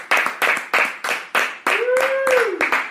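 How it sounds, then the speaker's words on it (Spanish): A short run of regular, evenly spaced claps, about three per second, close and loud, with a voice rising over the last second. "Un aplauso para Ana Rojano"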